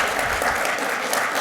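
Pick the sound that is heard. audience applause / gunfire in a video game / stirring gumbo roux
audience applause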